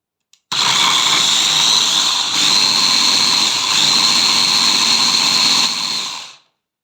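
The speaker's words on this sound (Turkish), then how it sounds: "Evet şimdi robotumuzdan geçirelim pürüzsüz hale gelinceye kadar." A food processor whirs steadily at high speed, blending boiled eggs until smooth, with a loud, continuous motor drone that runs for about six seconds before shutting off.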